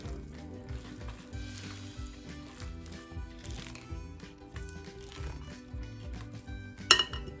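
A spatula folds zucchini apple bread batter in a bowl, with soft scraping and stirring under steady background music and a sharp clink near the end.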